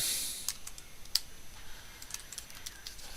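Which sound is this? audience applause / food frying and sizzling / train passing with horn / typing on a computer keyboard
typing on a computer keyboard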